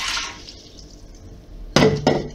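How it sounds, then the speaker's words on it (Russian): Water splashing into the bowl of a GFGRIL GFM-718D multicooker for boiling beans, a soft hiss of flow fading and then two sharp, loud splashes close by. "Для начала нужно фасоль сварить, поэтому наливаем в чашу воду."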